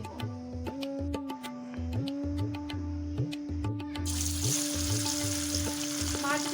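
Pangas fish frying in hot oil, a steady close sizzle that swells into a louder, brighter crackle partway through, with a low hum beneath and light scraping clinks.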